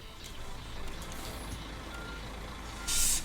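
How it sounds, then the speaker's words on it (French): Warning beeps from a reversing tourist bus in a bus driving simulator game sound as a bright tone near the end, over a low engine rumble and faint traffic noise. "Hop, warning, on recule."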